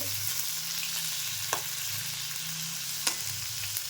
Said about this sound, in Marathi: आता हे व्यवस्थित सगळं भाजलं आहे आता मी भाज्या टाकून घेते